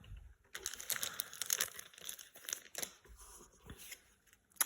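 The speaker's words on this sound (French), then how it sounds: "on va la mettre sous sleeve" A Pokémon card slid into a thin plastic sleeve, close and faint, with a run of soft crinkling and scraping rustles that keeps going and ends with a small tap.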